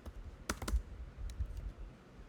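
Code being typed on a computer keyboard, with a quick close cluster of crisp key clicks followed by a few sparser taps against quiet room noise.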